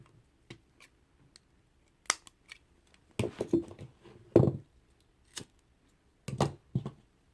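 Scissors snip through a kandi bracelet cord for a mouse-design kandi, giving a few sharp, close clicks and short crunchy cuts spaced across the moment, with no talking.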